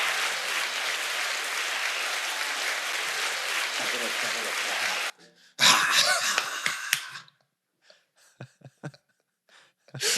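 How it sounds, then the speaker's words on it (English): Audience applause, a dense steady clapping that fills the first five seconds, then cuts off, followed by a brief loud burst of voices and scattered short sounds with gaps of near silence. "Let's clap it up for Soulja Boy."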